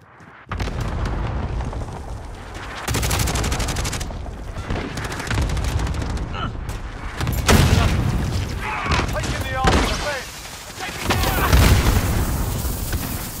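Cluster strike explosions in Call of Duty: Modern Warfare, a rolling series of heavy booms and blasts mixed with gunfire, loud and close, with voices calling out over the battle.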